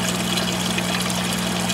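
Submersible pump running in a hydroponic rail system's sump tank, with return water trickling and splashing back in; a steady close hum with continuous dribbling water throughout, no voices.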